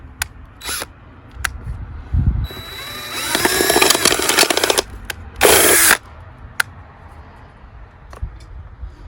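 A power drill with a 5/16-inch bit whines in short bursts, biting into material with a grinding buzz, interspersed with clicks and knocks from handling nearby.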